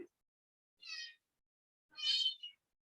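A cat meows twice in a quiet room, the first call short and the second longer and louder, separated by about a second of silence.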